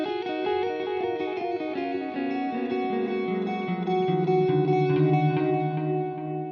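An electric guitar played through a Fender Hammertone delay pedal on its analog setting, a sustained line of descending notes trailing soft, darkened repeats and a smeared, slightly distorted wash, with no talking.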